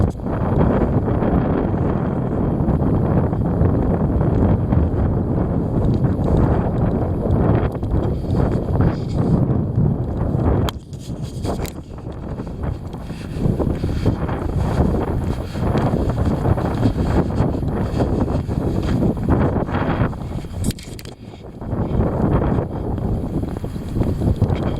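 Heavy wind roars against the microphone in a steady, loud broadband rush with gusty buffeting, briefly easing around two moments before surging back, with no voices.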